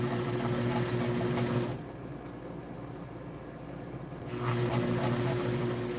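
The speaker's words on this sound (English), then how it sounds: "Sew on the right side of the seam, right along that seam." A sewing machine stitches a seam on a wedding dress, a steady close-up mechanical whir that pauses briefly in the middle before resuming, with no talking.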